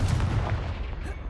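A Confringo blasting spell goes off in the Hogwarts Legacy video game, a single short, heavy boom with a rumbling low thud that fades within about a second.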